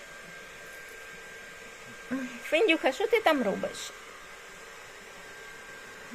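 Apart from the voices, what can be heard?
hair dryer running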